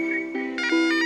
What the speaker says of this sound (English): This sounds more like one of those cheap Java phone games more than it does an N64 game.